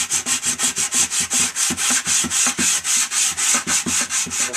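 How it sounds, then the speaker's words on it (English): Sandpaper scrubbing filler on a Boba Fett helmet, loud rhythmic back-and-forth strokes about four per second, steady and close, no voices. "You want to keep sanding until all the filler is gone"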